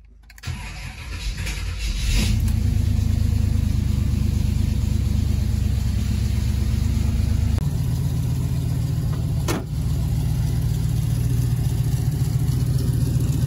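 Small-block V8 car engine cranks and starts, then settles into a loud, steady lumpy idle with a brief blip partway through, heard close in a garage.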